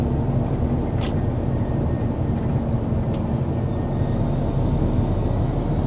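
Steady rumble of a diesel truck rolling down a long mountain road in sixth gear, droning evenly throughout with a faint click or two, no voices.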